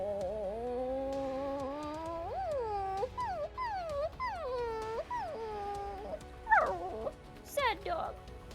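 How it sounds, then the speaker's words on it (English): A sad dog in a video game whimpers and whines in a run of rising and falling high-pitched cries, ending with a few sharper yelps, heard close and clear over a faint backing. "Sad dog."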